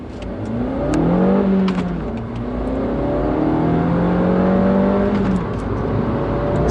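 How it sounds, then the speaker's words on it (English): A 2018 Suzuki Swift Sport with manual gearbox accelerating hard in a 0 to 60 run, the engine revving up loudly through rising pitch, dropping at a gear change, then climbing again close to the microphone. "I think the next thing we need to do is a 0 to 60 test."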